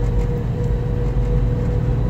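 A 1990 Toyota Land Cruiser in third gear gives a steady low drivetrain hum and gear whine from inside the cab while driving, constant and fairly loud with no talk.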